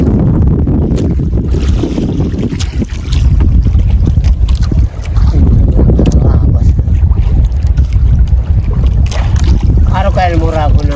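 A three-piston fishing boat engine runs loudly and continuously at sea, with strong wind buffeting the microphone and a faint voice near the end.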